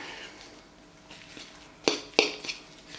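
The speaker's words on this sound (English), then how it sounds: "And then I shall mix that all together." A spoon clinks and scrapes in a bowl as tuna salad is mixed with a little chopped onion, with a few sharp knocks close by over a quiet background.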